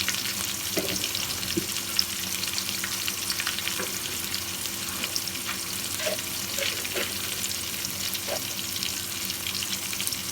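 Cinnamon sticks, peppercorns and cloves sizzle in hot oil in a pan, giving a quiet, constant crackle with occasional small pops and faint stirring sounds.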